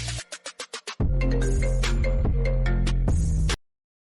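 A phone ringtone plays loudly and close, opening with a quick series of short electronic beeps before a sustained, full-bodied melody that cuts off abruptly after a few seconds.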